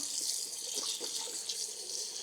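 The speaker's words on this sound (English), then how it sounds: "Okay, I'm adding water now." Water streams steadily from a kitchen tap into a cooking pot holding cut sweet potatoes, a close continuous hissing splash that stays even throughout with no voices.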